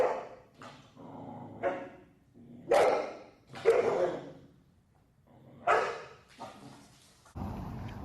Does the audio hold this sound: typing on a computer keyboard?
no